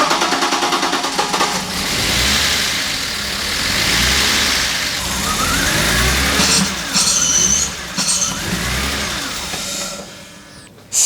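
A coupé's engine runs continuously at a steady mid-pitched idle with slight rises in revs, loud and close throughout, with brief sharper mechanical bursts partway through and a sudden cutoff near the end.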